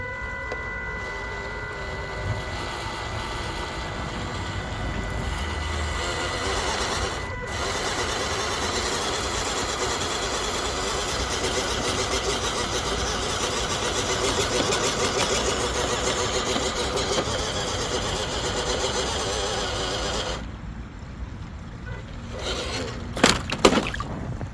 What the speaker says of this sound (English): let's try out the tyre grip and just see what it's like on this tiny little incline with a little bit of loose soil